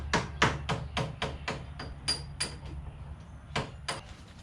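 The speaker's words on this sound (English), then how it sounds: "take a punch and a hammer or something that you can just tap on it and knock the steering shaft U-joint from the actual shaft itself" Sharp metallic taps of a hammer striking a punch against a steering shaft U-joint during a Demon power steering install on a Polaris Pioneer 500, about ten close, loud blows in an uneven rhythm over a low engine-like hum.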